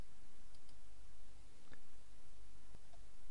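Soft computer mouse clicks for a right-click and copy, a few brief faint taps over a steady low hum.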